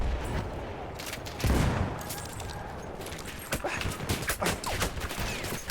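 A Burton rifle fires in Battlefield 1 amid other battlefield gunfire: a loud opening blast, then irregular sharp shots and rapid bursts cracking close by, growing denser toward the end.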